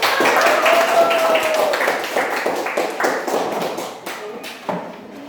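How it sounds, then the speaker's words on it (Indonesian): A classroom group claps their hands, a brisk scatter of overlapping claps that tapers off toward the end, with a brief voice early on. "mari kita sambut mereka dengan tepukan tangan yang meriah. Tepuk tangan."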